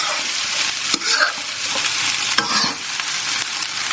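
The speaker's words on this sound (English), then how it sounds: "a gorgeous, easy, stir-fried fried rice, Thai style" Thai-style fried rice crackles loudly in a hot pan as it is stir-fried, with a strong steady sizzle and sharp spatula knocks and scrapes close up.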